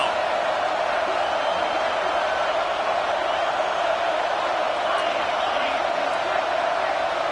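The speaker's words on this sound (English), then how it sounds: "Decibels rising as the crowd gets behind this defense on third down" A football stadium crowd roars steadily on third down at a Notre Dame vs Colorado game, a loud, continuous wash of cheering that swells slightly without letup.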